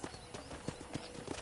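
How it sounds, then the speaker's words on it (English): A horse's hooves clip-clop in a steady trotting rhythm while riding in Red Dead Redemption, faint and close with no talk over it. "let's see if you can still ride a horse. Giddy up!"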